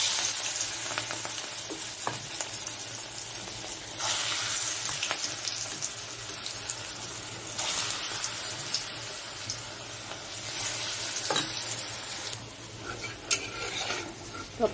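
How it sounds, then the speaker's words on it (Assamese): Pakoras frying in hot oil in a pan, a continuous loud sizzle with bursts of stronger crackling as pieces are added a few at a time, steady throughout with no speech. "এতিয়া মই পকৰীখিনি অলপ অলপকৈ ভাজি ল'ম"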